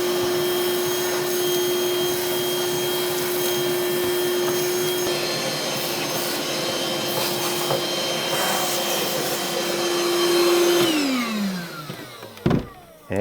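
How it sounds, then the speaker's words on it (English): A Ryobi cordless wet/dry vacuum sucks up sawdust in a workshop with a steady, close motor whine that runs evenly, then spins down and clatters briefly at the end. "it's a pretty powerful little vacuum. Suck up all this sawdust."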